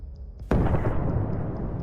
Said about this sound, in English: erupting into a fiery explosion that shook the ground.